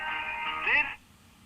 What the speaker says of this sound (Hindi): ये सालिक को मैंने फोन घुमाया